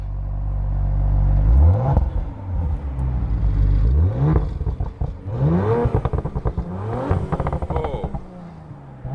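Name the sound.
Audi RS5 engine revving, exhaust valves open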